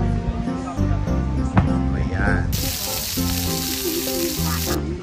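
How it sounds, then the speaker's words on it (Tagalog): Okoy, vegetable fritters, frying in hot oil at a Filipino neighbourhood farewell gathering, giving a steady sizzle with a brighter hiss burst midway, under loud talk and background music. "Iprito kami ng okoy."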